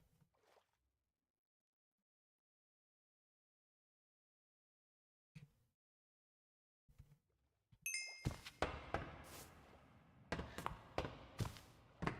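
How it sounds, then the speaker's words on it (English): Experience-orb pickup chimes in a Minecraft 1.20.1 adventure RPG modpack: a quiet stretch, then a cluster of bright, ringing dings that repeat rapidly and overlap, with some clanking game sounds mixed in. "That XP noise is driving me crazy."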